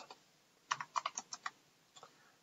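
Code is typed on a computer keyboard in a quick cluster of soft, close keystrokes, followed by a pause and a couple of final taps in a quiet room.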